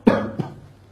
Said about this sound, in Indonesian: Sesekali dia batuk-batuk ringan.